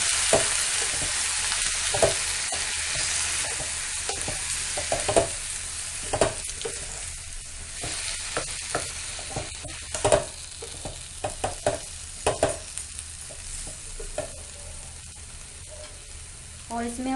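Roughly chopped tomatoes sizzle in a hot pan with steady frying, broken by repeated clacks and scrapes of stirring at close range.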